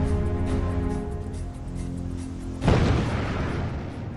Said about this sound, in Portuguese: Uma explosão maior ainda destrói o prédio que abriga o reator número 3.